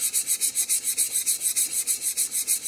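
Sole of a Chinese bao jack plane rubbed back and forth on sharpening stones, a rhythmic raspy scraping stroke repeated about fourteen times at an even quick pace, close and alone.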